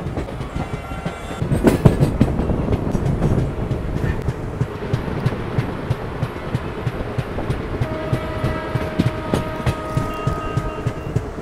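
The Begampura Express runs on rails with a steady, close rumble and a rapid, even clickety-clack of wheels, heard from inside the train throughout with no voices.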